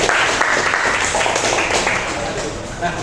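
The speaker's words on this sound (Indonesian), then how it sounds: "Berikan tepuk tangan untuk kelompok kedua." A classroom group of students claps for the second group, a steady wash of applause mixed with voices talking throughout.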